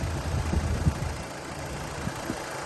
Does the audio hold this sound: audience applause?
no